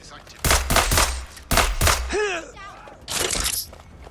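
Bursts of rapid gunfire crackle in the video game Watch Dogs: Legion, two long volleys separated by brief pauses, with electronic whooping tones and shouting voices in between.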